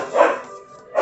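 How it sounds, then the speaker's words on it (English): Dogs bark indoors, a close, loud bark followed by a quieter tail and the start of another bark, brief and sharp. "Sorry about the dogs, guys."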